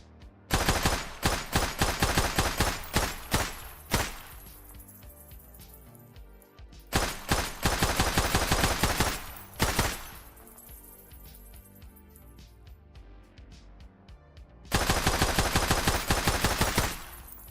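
Rapid submachine-gun fire in a third-person video game under development, sounding in three loud sustained bursts separated by pauses with scattered shell-casing clinks.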